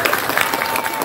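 An audience at a religious gathering claps steadily for a hadroh group, a dense, even burst of applause throughout.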